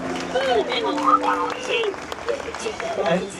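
Applause from an outdoor audience at a live bird show in Disney's Animal Kingdom, a steady patter of clapping with cheering voices and chatter mixed in.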